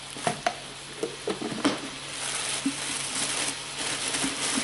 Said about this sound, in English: Here it's sizzling now because it's getting hotter.